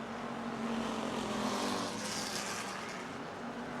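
Stock cars, a Pontiac leading a Chevrolet and a Buick, race through a heat at the Motordrome Speedway, their engines making a steady, somewhat distant roar that swells and fades as they pass.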